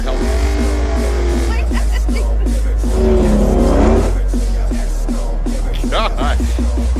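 Engine of a 1,000-horsepower Dodge Hellcat, a deep, loud rumble with repeated revving pulses and a rough, choppy idle, over a strong low-frequency drone.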